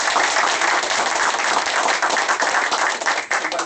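An audience at an evening talk on Dominican independence breaks into loud, close applause, a dense, continuous clatter of many hands clapping.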